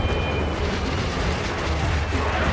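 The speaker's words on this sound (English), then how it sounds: "keep firing your damn mortars" Mortar explosions from the video game Battlefield 1, a dense, continuous rumble of booms and blasts, loud and close throughout.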